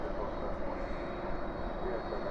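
Steady broadband roar of an MD-11 jet airliner at DFW airport at night, loud and continuous, heard alongside faint chatter.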